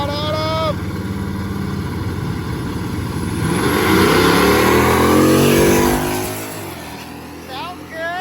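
A carbureted Chevrolet Camaro launches down a street drag strip, its engine note swelling loudly into a rising roar through the middle of the run, then fading as the car pulls away.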